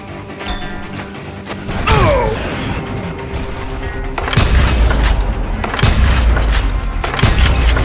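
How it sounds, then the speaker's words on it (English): Double-barrel shotgun blasts in Call of Juarez Gunslinger, several heavy booming shots spaced a second or two apart over mechanical creaks and game clatter, loud and close. "Robert Ollinger appeared with his terrible double-barrel shotgun."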